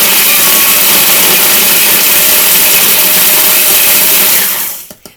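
A food processor grinds Oreo cookies into gritty crumbs with a loud, steady, high-pitched whirring roar that runs without a break, then spins down and stops at the end.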